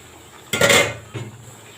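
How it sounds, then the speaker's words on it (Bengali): Cut radish and potato pieces drop into a metal pot with a single clattering thud, followed by a smaller second knock as they settle. "এখন আগে থেকে ধুয়ে পরিষ্কার করা এই যে মূলা দিয়ে আলু দিয়ে কেটে নিয়েছি, এগুলো দিয়ে দিব।"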